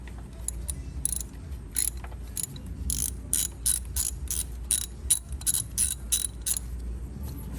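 Ratchet wrench loosening a 10 mm bolt on a Chevy Malibu vacuum pump, rapid clicking strokes in uneven bursts over a low steady hum, close and clear.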